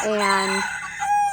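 A rooster crows on a homestead full of chickens, pheasants and rabbits, its harmonic call loud and close for about half a second before a voice speaks briefly.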